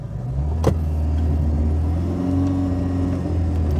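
A Seat Ibiza hatchback's small engine idles steadily and then revs up, its low hum rising and holding close and loud throughout.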